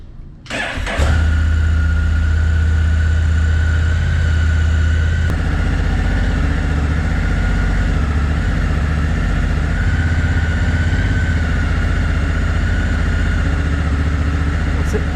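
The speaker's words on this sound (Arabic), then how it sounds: "طب الموتوسيكل ده يا جماعه هو موتوسيكل من فئه التورنج" A Honda NT1100 touring motorcycle engine catches, then settles into a steady, low rumbling idle that continues evenly, close and loud.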